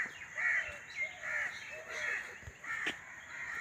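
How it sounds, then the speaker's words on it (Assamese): Several crows caw in a village at dawn, a run of harsh repeated calls at moderate distance, fairly faint over quiet background. "কাউৰীয়ে কাকাগুৰি আছে"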